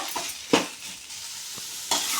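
Cabbage fry is stirred in a pan, with a steady frying sizzle and three or four distinct scraping strokes of the spatula, close and fairly loud, with no voices.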